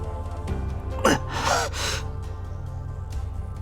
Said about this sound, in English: I let out a gasp.